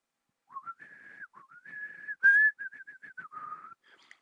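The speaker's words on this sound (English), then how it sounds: "You want me to whistle something?" A person whistles a simple melody from The Legend of Zelda, a string of clear sustained notes with short breaks, close and fairly quiet, with one louder sharp burst midway.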